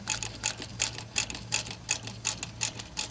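THOR GC2603 sewing machine stitching at its longest stitch length, 6, at a slow pace, giving a steady, evenly spaced mechanical clack of about three beats per second over a low motor hum.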